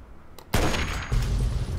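Gunshots in Fallout 3: a sudden loud blast followed by a second heavy report, dense and close, with no talking.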